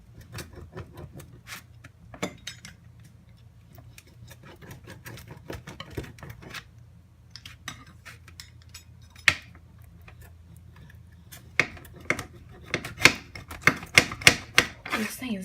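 A dull cutter works through a homemade pizza, giving a run of close, uneven crunching and clicking strokes that grow louder and denser toward the end.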